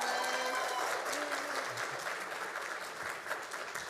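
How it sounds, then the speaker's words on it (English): An audience at a school district State of the District event claps in a steady round of applause, moderately loud and fading slightly, with a brief voice or tone near the start. "Big round of applause."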